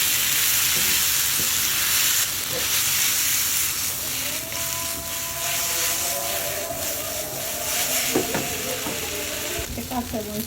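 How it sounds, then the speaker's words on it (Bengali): Chopped tomatoes and sauces frying in a pan for a chicken roll filling: steady close-up sizzling and crackling with stirring and scraping of a utensil, bursts of spitting oil toward the end, a faint voice briefly underneath. "টমেটোগুলো দিয়ে দিচ্ছি, এগুলো একটু ভেজে নেব"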